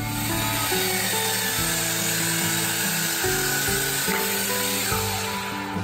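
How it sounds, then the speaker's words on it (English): Chop saw slicing through two wooden boards at once in a workshop, a loud continuous motor whine with the blade biting steadily through the wood, close and alone without talk. "So we're at the chop saw."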